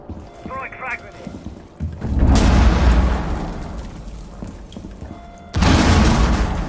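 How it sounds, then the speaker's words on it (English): Frag grenade thrown and exploding in a video game: a brief radio-style voice line, then a loud close boom with a rumbling tail, followed by a second heavy blast near the end. "Throwing frag grenade."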